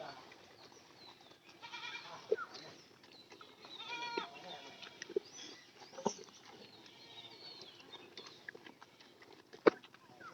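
Goats kept at a rural home bleat several times, their wavering calls rising from a low background with a few sharp knocks and soft rustling between them.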